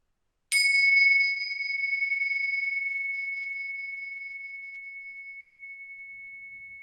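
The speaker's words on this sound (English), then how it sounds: "see if you can bring your full presence to the sound of the bell from the moment it begins all the way until that split second when it dissolves into silence" A mindfulness bell struck once, a bright clear ring with a steady pure tone that lingers and slowly fades toward silence, alone without talk.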